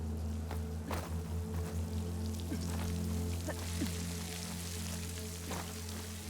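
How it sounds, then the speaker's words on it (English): Water pours through a breach in a wall in Horizon Forbidden West, a continuous splashing rush over a low steady hum, with faint scattered drips and taps. "A breach. Water's flowing into the wall."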